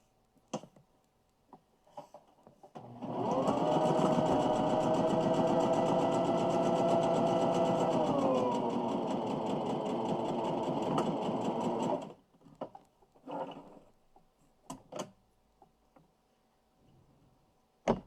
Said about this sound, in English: And now I'm going to sew down this long edge, again at a 1/4 inch.